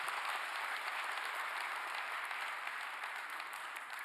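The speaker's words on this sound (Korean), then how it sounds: "박수 부탁드립니다." Sustained audience applause in a large hall at a government policy briefing event, dense steady clapping throughout without talk.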